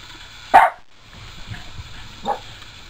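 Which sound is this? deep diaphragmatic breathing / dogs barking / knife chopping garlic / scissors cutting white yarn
dogs barking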